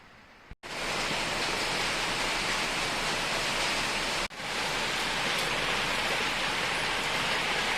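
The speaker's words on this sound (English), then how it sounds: "Been raining like this all day." Steady all-day rain pouring outside during house wall insulation work, a dense, even hiss of falling water broken only by a couple of brief cutoffs, with no voices.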